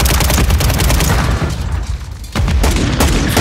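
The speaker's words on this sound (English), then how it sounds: "Down the guy that's shooting, John." Gunfire in the Warzone 2 video game: rapid, loud automatic bursts and single shots fire nearby, with a brief lull in the middle before the shooting resumes densely.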